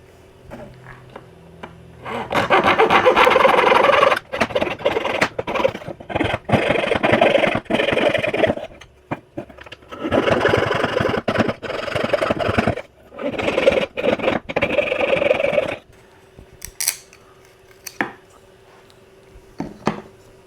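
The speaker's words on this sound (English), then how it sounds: "I'll just take a small hacksaw or a hacksaw blade, and I'll cut those tabs, thereby liberating the fingerboard from the blank" A small hacksaw cuts through the holding tabs of a CNC-cut violin fingerboard blank, producing bursts of quick, close rasping strokes separated by short pauses.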